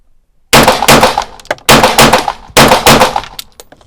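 Three loud, sharp pistol shots from a Belgian FN 1922 handgun fired at a range, each a broadband crack with a short tail, spaced about a second apart, followed by faint clicks.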